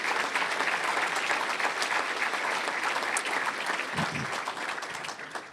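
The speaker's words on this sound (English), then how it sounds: "this mayor has carried on in this tradition. I think Mayor Rich Daley has done an enormously great job for this city and deserves a round of applause" Sustained audience applause for a Chicago mayor at a civic event, a dense, steady wash of clapping from a large crowd that carries on throughout.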